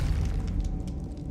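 A spell being cast in Hogwarts Legacy, heard as a dense, continuous low rumbling boom with crackling texture that holds steady for just over a second, fairly loud and close, with no talk over it.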